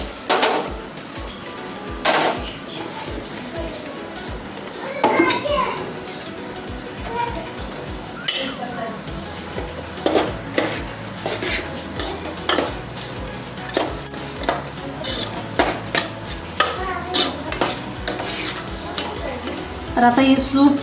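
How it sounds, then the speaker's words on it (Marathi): Puran filling roasts in a pan as a utensil stirs and scrapes it, making repeated close clinks and scraping knocks over a soft sizzle in an irregular rhythm. "तर आता ही पुरण जरा भाजायला ठेवते वर."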